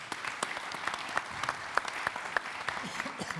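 A small audience at a corporate innovation panel discussion applauding the presenters, a soft, fairly sparse patter of claps with a few sharper individual claps standing out.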